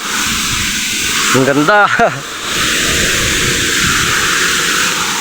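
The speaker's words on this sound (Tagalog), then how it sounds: "Ang lakas ng singaw ng tubig mga kani dito sa pasingawan ng hose." Strong hiss of a water-vapor spray jetting from a hose outlet beside a hanging bridge in the provinces, a steady broadband rush that runs throughout, briefly overlaid by someone speaking.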